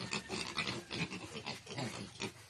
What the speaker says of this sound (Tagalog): Yun na, yung mga biik.